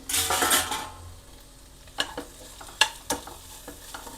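Already-boiled ivy gourd frying in oil in a pan, opening with a loud sizzling stir that settles into a low steady fry punctuated by several sharp clinks of a utensil against the pan.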